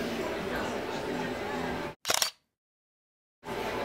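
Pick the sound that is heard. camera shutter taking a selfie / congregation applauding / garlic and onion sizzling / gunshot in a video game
camera shutter taking a selfie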